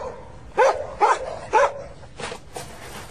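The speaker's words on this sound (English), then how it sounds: "The border collie poked out its head and barked. It barked, and it barked." A border collie barks three times in quick, loud succession close by, followed by two softer barks, with no talk.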